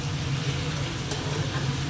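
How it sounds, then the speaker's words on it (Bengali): Marinated meat sizzles steadily as it is sautéed in a pan, a close, continuous frying hiss with no talk. "তো কষিয়ে নিই ভালো করে"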